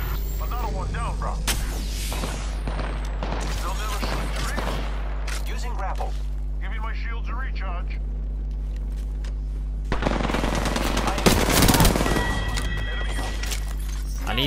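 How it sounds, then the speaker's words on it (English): Gunfire in a Halo multiplayer match on PS4: rapid bursts of shots and impacts with loud heavy blasts and bright energy-weapon effects, overlapping repeatedly, while a player talks over the action. "Hey, I'm getting shot."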